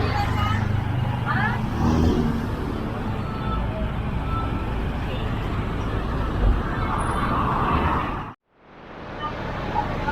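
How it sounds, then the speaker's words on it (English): The main bus stand of a Sri Lankan town carries a steady roar of traffic, with engines of buses and cars idling and passing nearby and a general hubbub of voices, before a brief sudden drop and return of the noise. "So this is the main bus stand"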